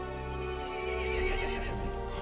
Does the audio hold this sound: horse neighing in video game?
yes